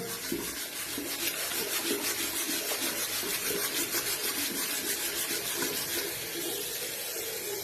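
Steady running water streams from a tap while a metal rod from a hydrogen water generator is rubbed back and forth beneath it in a quick, continuous scrubbing rhythm.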